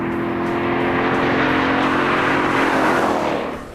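A Corvette race car drives a five-mile oval test track, its engine a loud, steady drone that holds at speed before easing off at the end.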